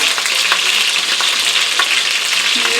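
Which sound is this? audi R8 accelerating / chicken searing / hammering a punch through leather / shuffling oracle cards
chicken searing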